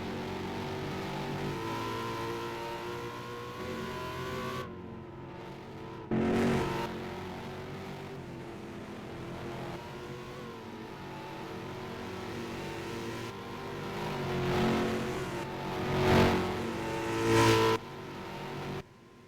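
ROX Mod race cars with 5-speed transmissions run on the Indianapolis road course, their engines droning and revving at a distance, rising and falling with several louder surges as cars pass.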